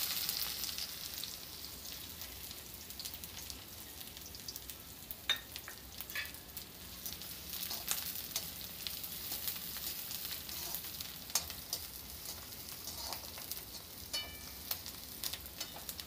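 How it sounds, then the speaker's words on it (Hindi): Two medium chopped onions fry in hot oil for a paneer malai kofta gravy, making a soft, even sizzle with sharp pops and occasional stirring clicks. "देखिए मेरा तेल गरम हो गया, अब इसमें 2 मीडियम साइज की कटी प्याज डाल देते हैं।"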